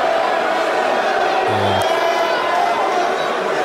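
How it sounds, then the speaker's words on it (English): Large arena crowd booing the Island Boys at a Jake Paul fight event: a dense, steady roar of many voices that holds at full loudness throughout, with no pauses. "a lot of people booing them"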